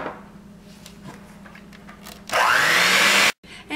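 An electric mixer blending chocolate cookie dough with vanilla, a short loud whirring burst that rises and holds for about a second, then cuts off after quieter clatter.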